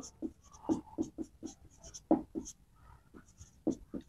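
Chalk or marker writing on a classroom board gives short scratchy strokes in irregular bursts with pauses between them, close and fairly quiet, with a voice speaking faintly now and then.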